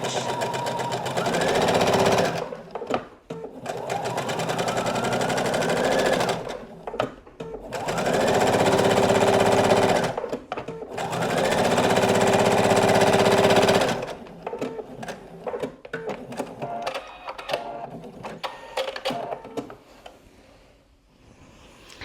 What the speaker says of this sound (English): I'm lining the edge of my presser foot to the seam as I top stitch